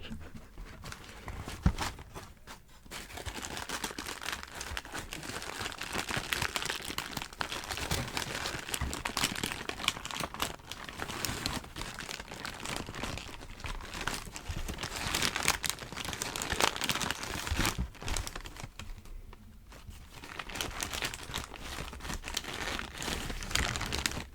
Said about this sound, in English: So I'll try and get some, paper sounds without spoiling the shoe too much